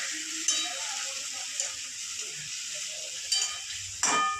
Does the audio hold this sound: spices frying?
yes